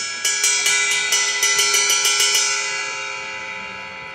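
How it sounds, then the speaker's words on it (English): A Meinl extra heavy extreme metal ride cymbal with a huge bell, struck repeatedly on the bell in a steady run of about ten bright, ringing pings that overlap, then leave a long shimmering decay, close and loud with no talking. "Extra heavy extreme metal ride with a huge bell."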